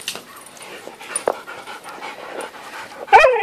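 Boxer dog panting close by in rapid breathy bursts, ending with a short sharp yip or whimper.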